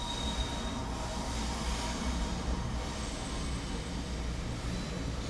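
A train passes by outside a window, producing a continuous heavy rumble with rail noise and faint squeals that stays loud and steady throughout, with no voices.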